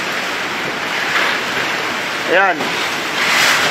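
Strong wind of a Category 4 super typhoon roaring steadily and loudly into the microphone in gusting surges, with a voice speaking briefly over it.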